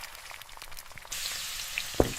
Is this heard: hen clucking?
no